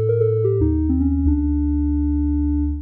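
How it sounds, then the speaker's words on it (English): A basic polyphonic synth voice built in VCV Rack plays smooth sustained electronic tones, stepping down through a few pitches in quick succession before settling into one long held chord that fades out. "We should now have an extremely basic polyphonic voice that follows the envelope"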